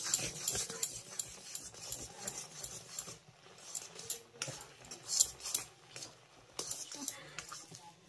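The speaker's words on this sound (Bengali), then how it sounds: "এবার অনবরত নেড়েচেড়ে আমি ডোটিকে খুব ভালোভাবে তৈরি করে নেব।" A spoon scrapes and clinks irregularly against a pan as semolina dough for a winter pitha is stirred continuously over a low gas flame, the close, uneven scraping coming in small bursts.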